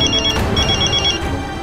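A phone rings in a domestic TV drama scene, a repeating electronic ringtone pattern sounding loud and steady over a low background hum, with no talking.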